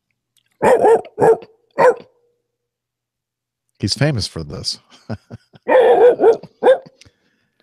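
A dog barks in short bursts, a few sharp woofs near the start and another cluster later, alternating with someone talking close by in a podcast setting.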